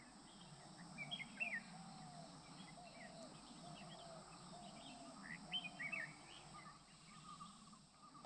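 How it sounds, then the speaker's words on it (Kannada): Birds chirp and sing in scattered short calls against a steady low hum of insects at a homestay in misty Sakleshpur hills, fairly faint and distant, with no voices. "ಬರೀ ಪಕ್ಷಿಗಳ ಸೌಂಡು, ಅದು ಬಿಟ್ಟು ಇನ್ನೇನು ಕೇಳಿಸಲ್ಲ ಇಲ್ಲಿ."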